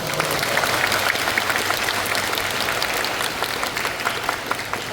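An audience at a zoo talk claps for the zookeepers, giving dense, steady applause that stays loud and even for the whole stretch.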